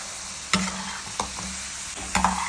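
Grated surna (yam) cooks in hot oil in a pan, with a soft continuous sizzle broken by a few sharp scraping stirs of a spoon against the pan.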